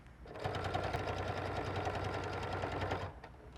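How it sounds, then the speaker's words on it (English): A sewing machine stitching a lining seam, running in one steady quiet burst of about two and a half seconds with a fast even needle rhythm, no talking. "I'm going to back tack so that I know that my seam stays in place"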